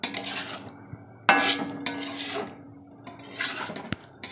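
A utensil stirs egg curry with fried eggs in a pan, close and clattery, with repeated scraping strokes in bursts and metallic clinks against the pan; no talking.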